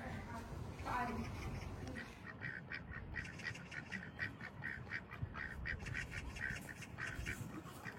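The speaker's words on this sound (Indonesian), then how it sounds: "Bisa lihat bebek-bebek di danau." Ducks quacking on a campus lake at Baoji University of Arts and Sciences in China, a run of repeated quacks through the second half over steady outdoor ambience, with people talking nearby.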